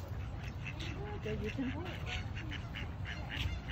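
Ducks quack repeatedly in an outdoor park by a lake, a scattered series of short nasal calls at moderate distance, heard beneath a person speaking and steady background noise.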